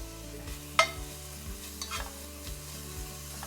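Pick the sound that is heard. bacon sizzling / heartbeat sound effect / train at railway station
bacon sizzling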